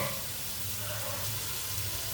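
Water pours into a cooking pot holding lentils, a faint continuous splashing trickle heard close up for a couple of seconds.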